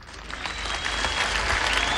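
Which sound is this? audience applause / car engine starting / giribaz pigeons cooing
audience applause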